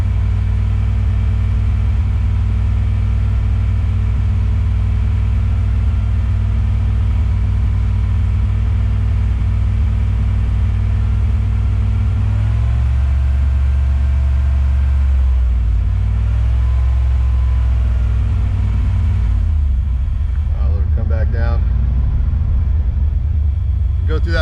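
A car engine fitted with EFI drones at a steady held speed of about 2250 rpm, a loud continuous low rumble that wavers slightly toward the end, heard close and alone.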